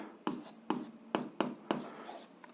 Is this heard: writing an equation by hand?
yes